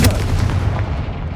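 Confringo blasting spell in Hogwarts Legacy, a loud, deep booming blast that rolls on briefly with no voice over it.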